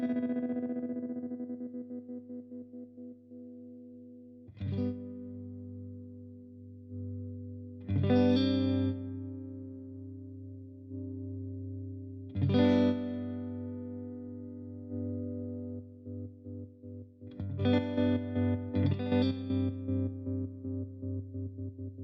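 An electric guitar runs through an MXR M305 tremolo pedal set to maximum speed: five chords ring out one at a time, each shimmering with a rapid, even pulsing as it decays.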